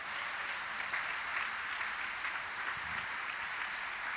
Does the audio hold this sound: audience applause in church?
yes